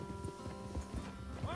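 Horse hooves clip-clopping in the Western video game Red Dead Online, a steady rhythm of soft, muffled thuds set low beneath continuous tonal game background sound.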